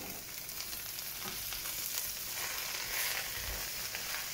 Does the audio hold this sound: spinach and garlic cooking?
yes